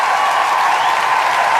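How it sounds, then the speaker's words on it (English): A canned applause effect fires from a soundboard button during a podcast, a short, loud, even burst of crowd clapping with no talk over it. "Just got the applause button. It feels good to hit."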